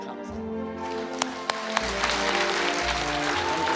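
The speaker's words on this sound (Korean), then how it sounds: "다시 한번 감사의 박수를" An audience applauds at a ceremony, a sustained wash of clapping with a few sharper claps standing out early, heard alone without speech.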